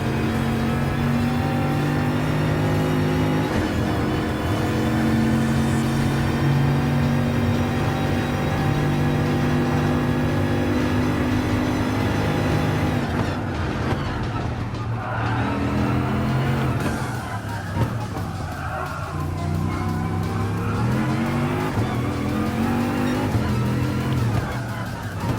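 Race car engine in Gran Turismo Sport roaring continuously at full throttle, a loud sustained drone with rising and falling pitch through gear changes and a brief dip midway, steady and close throughout.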